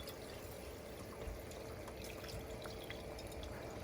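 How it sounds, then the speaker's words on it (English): Pan drippings from a prime rib roast poured into a strainer for au jus, a continuous close trickle and splash of liquid lasting a few seconds, steady and moderately quiet. "You take the remains of what you got left in the pan, pour it in a strainer"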